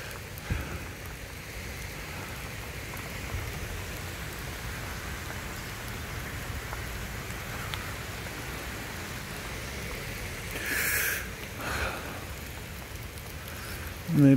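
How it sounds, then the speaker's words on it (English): Steady rain falls on Coconut Island in Hilo, Hawaii, a dense even hiss with a couple of brief louder swells near the end. "It's just the rain is a little bit cold."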